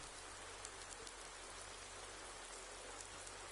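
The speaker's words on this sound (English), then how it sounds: "it's eased off to rain" Rain falls steadily at Zuhai International circuit in a touring car race setting, a faint, even hiss of drops with a few soft ticks and no talk.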